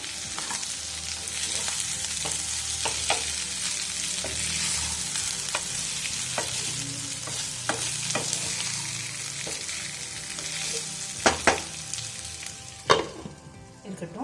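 Potato pepper fry cooks in a pan, a steady frying hiss broken by repeated spatula scrapes and taps as the potatoes are stirred, with a brief spoken word early on.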